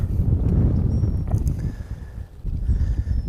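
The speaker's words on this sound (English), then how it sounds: "we cannot escape the wind today" Wind gusting hard across a lake during a fishing outing, a loud steady low rumble of buffeting air with brief dips in strength.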